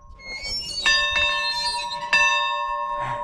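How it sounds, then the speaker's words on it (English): A schoolhouse bell at the Ridgway, Colorado western museum, rung by a girl: two clear metallic strikes about a second apart, each leaving a bright, sustained ringing tone that hangs in the air. "Each girl gets to ring the bell."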